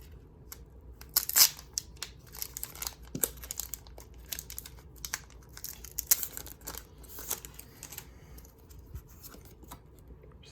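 A Pokémon Rebel Clash trading card blister pack being pried open: close, fairly quiet crinkling and tearing of plastic and foil wrap, broken by scattered sharp snips and clicks over about ten seconds, with no talking.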